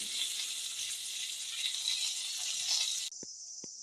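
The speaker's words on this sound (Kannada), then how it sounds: "ಸಾಸಿವೆ ಸಿಡಿತಾ ಇದೆ." Mustard seeds splutter in hot oil during tempering, a steady close crackling hiss that cuts off abruptly near the end, leaving a few sharp pops.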